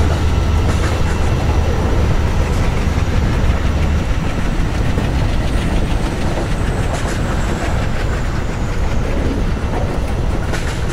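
A train runs along India's Central Railway route in Train Simulator, a steady loud rumble of wheels and carriages rolling on rails with a low engine drone, continuous and alone.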